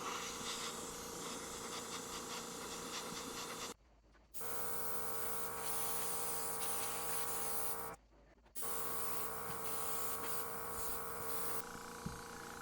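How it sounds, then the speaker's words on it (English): Spray paint hisses onto the page edges of a book in long continuous bursts, broken by two brief pauses, loud and close with no talking. "make sure that you spray at kind of an oblique angle there so you get all the edges along the cover underneath the cardboard"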